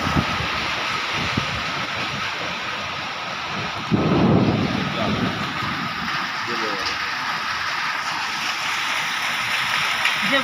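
Heavy rain falls on a tin roof as a steady, dense hiss throughout, with a low rumbling swell partway through and people talking underneath.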